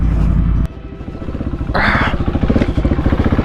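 A Husqvarna 701 Supermoto single-cylinder engine thumps loud and close while riding off-road, with a sharp shift in throttle midway, pulsing rhythmically and some rattling clatter over the rough ground.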